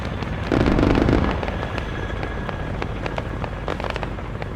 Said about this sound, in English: Mortar rounds are coming in.